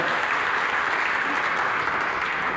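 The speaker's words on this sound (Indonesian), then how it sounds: "kasih tepuk tangan Bapak Ibu Saudara" Steady, continuous applause from guests at a wedding ceremony, a dense crowd clapping evenly throughout without pause.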